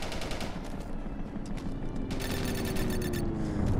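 Steady game gunfire from a D-Day shooter, Honor & Duty: a dense, continuous fusillade of rifle and machine-gun fire that stays loud throughout, with bursts of sharper cracks in the second half and no talk over it.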